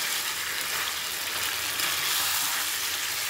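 Mutton pieces frying in a pan for a curry, a dense, steady hiss of sizzling fat that stays even and fairly loud throughout, with no distinct stirring strokes standing out.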